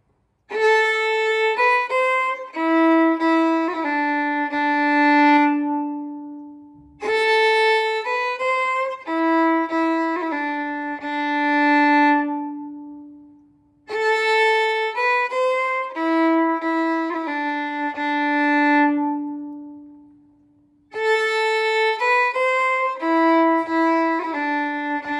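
The closing phrase of Part A of the Ballydesmond Polka, an Irish polka tune, played solo on a bright melodic instrument in four lively bursts of notes separated by short pauses.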